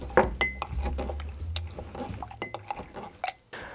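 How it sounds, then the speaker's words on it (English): Strawberries and cocktail ingredients being muddled in a glass, with irregular close clinks, taps and soft squishing from the muddler against the glass, at moderate loudness and with little or no talk. "you want to make sure that you really muddle this in thoroughly because you want to break it up"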